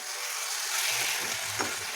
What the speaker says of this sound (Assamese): এয়া মই এনেকৈ ভাজি আছোঁ